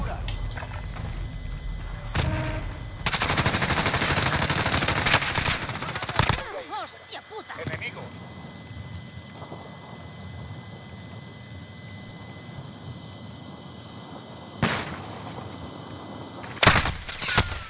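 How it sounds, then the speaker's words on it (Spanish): Automatic gunfire and shooting in Call of Duty: Warzone, with loud bursts of rapid fire, sharp single shots and a long steady sustained stretch of firing, while players talk excitedly over the action. "¡No paro de dispararle!"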